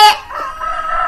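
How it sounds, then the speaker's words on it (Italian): A rooster crows once, loud and close, a brief strained cock-a-doodle-doo with no talk around it. "Chiama il gallo"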